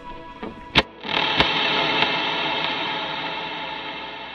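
Electric guitar run through a Strymon BigSky reverb pedal with delay added: a few plucked notes at the start, then a swelling wash of reverb and repeating echoes that sustains steadily with no voices.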